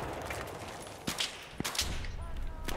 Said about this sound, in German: Der schießt mit seiner Sniper munter weiter.